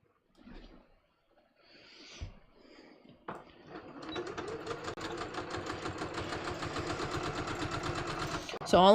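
A sewing machine stitches through the seam allowance of a welt pocket and pocket bag. After a few seconds of quiet handling and brief talk, a steady, rapid mechanical whir runs for about five seconds and ends abruptly.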